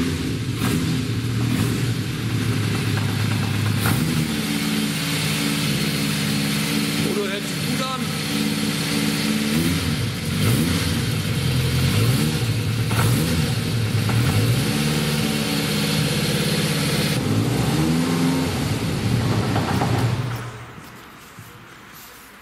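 A Kawasaki Z500 motorcycle with 38,000 km on it, being rebuilt as a streetracker, idling and revving through repeated rising and falling swells, loud and close, before the engine cuts off near the end. Someone talks over it.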